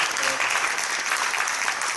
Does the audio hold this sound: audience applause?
yes